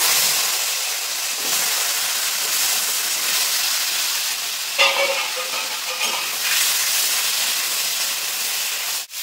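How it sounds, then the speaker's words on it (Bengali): Cut, washed taro pieces fry in hot oil, a loud steady hiss and crackle with brief stirring scrapes and a sharper clatter near the end. "এই তেলের ভিতরে আমি দিয়ে দেবো এই কচু, কেটে ধুয়ে রাখা কচু"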